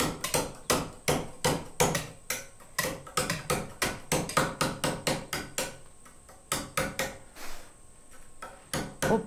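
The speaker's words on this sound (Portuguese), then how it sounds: "Os dois estão entalhando." Sharp, rhythmic hammer blows on a chisel carving a stone gravestone, close and crisp, coming in quick runs of strikes with brief pauses between bursts.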